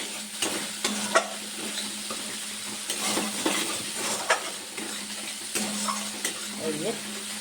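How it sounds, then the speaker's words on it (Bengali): Masala with salt, sugar and cashew stirred in hot oil left from frying pointed gourd, a steady soft sizzle broken by repeated scraping strokes of a spoon against the pan, close and moderately loud with no talking. "মশলাটা আস্তে আস্তে কষাতে থাকবো।"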